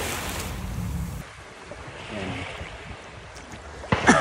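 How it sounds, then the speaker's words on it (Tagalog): Sea waves wash in at a seaside swimming spot, a rough surging roar mixed with gusty wind buffeting the microphone, then easing for a while before a sharper splash near the end. "At napakasarap pakinggan yung mga alon galing doon sa dagat"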